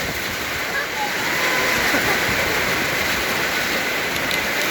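Steady, dense rain falls outdoors in a Thai rural setting, a continuous broadband hiss like a downpour with no breaks, fairly loud and close.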